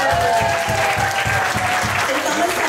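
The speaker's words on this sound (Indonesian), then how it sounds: "marilah kita sama-sama memberikan tepukan gemuruh kepada kita semua" An audience at a Hari Raya family gathering gives a dense, sustained round of applause over a steady beat of background music.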